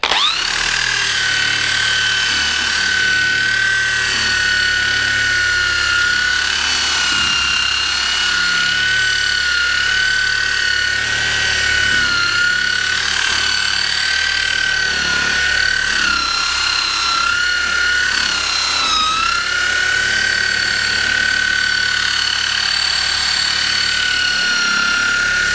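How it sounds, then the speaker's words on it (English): A buffing mop spun by a drill runs steadily against a wooden stave-built drum, giving a loud, continuous high whine with friction hiss that holds throughout, dipping slightly near the end, with no talking. "with just a buffing mop on a drill, I'll come in and"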